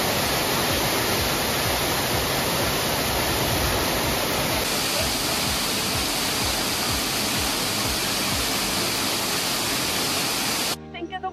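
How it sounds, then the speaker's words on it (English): A waterfall close by, a loud, constant roaring hiss that holds steady for most of the stretch before cutting off abruptly near the end. "And we have arrived at the waterfall."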